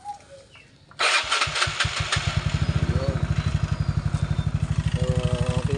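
A Yamaha Mio 125 motorcycle that had sat unused for a long time, with a freshly charged battery, cranks and fires after about a second, then settles into a steady, rhythmic idle.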